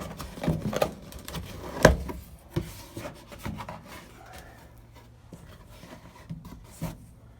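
A box holding a tachometer harness for a 1966 C10 pickup is opened, with close rubbing, scraping and rustling of cardboard and packaging, irregular handling knocks scattered throughout.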